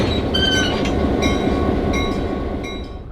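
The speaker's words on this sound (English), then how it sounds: "There's also the Caboose Train, made of 4 cabooses, pulled by various engines throughout the day." A train of four cabooses pulled by a locomotive at Diesel Days at the Illinois Railway Museum, rumbling steadily past nearby with clicking wheels and brief high squeals, slowly fading.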